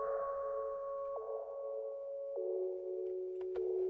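A synthesized sine wave pluck with reverb plays in an electronic music track, sustained pure tones stepping downward in pitch every second or so, each change marked by a soft attack, steady and fairly loud with a faint low pulse beneath.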